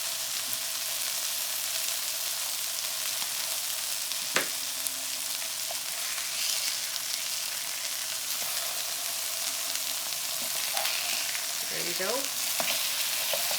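Burger patties for an In-N-Out style Double Double sizzle steadily on a hot griddle, a continuous loud frying hiss throughout, with brief scraping and a voice speaking briefly.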